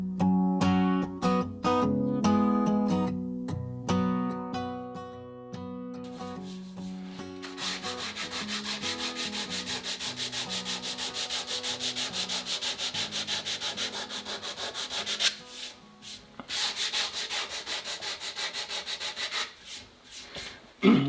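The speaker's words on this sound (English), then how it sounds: "When you're sanding off from the back of the stock, you always want to sand from the flattest side outward." Sanding a wooden stock of a Ruger .44 carbine by hand: steady rhythmic scraping strokes, close and fairly loud, with a few sharper rubs at the start and continuous abrasive friction afterward, no talking.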